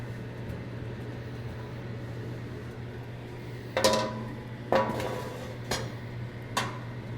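A pan is scraped to loosen cooked-on bits for a stock, four short rasping scrapes arriving in the second half over a steady mechanical hum.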